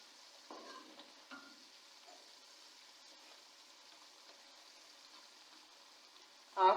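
Boneless chicken with red chilli, salt and turmeric fries in a handi pot, giving a faint, steady sizzle with a couple of soft stirring scrapes and a sharper clatter at the very end.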